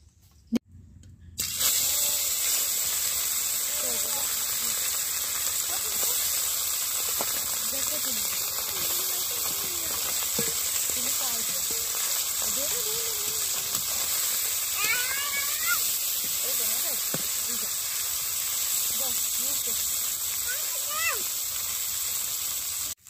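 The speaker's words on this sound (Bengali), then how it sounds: "তেল গরম হয়ে গেছে এই হলুদ লবণ মেখে রাখা মাছগুলোকে আমি ভেজে নিচ্ছি" Fish rubbed with turmeric and salt sizzle loudly in hot mustard oil, a steady close hiss and spatter that runs unbroken after a sudden start, with a voice talking faintly underneath.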